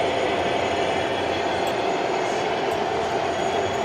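Model railway trains run on a huge Heaton Lodge Junction layout at a showground exhibition, giving a steady close rumble and rolling hiss with faint clicks and brief high squeals throughout.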